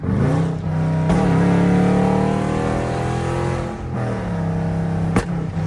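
A Jeep with a 5.7 engine revs hard while driving at night, a loud deep throaty roar with rising and falling pitch, close up from inside, with short sharp pops between revs.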